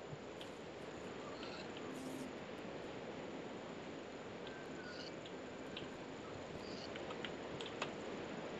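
Steady, dense rain hiss in a survival video game fills the scene evenly from start to finish, with a few faint clicks and small sounds scattered on top.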